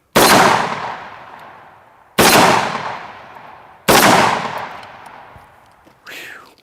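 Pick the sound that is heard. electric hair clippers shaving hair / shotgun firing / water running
shotgun firing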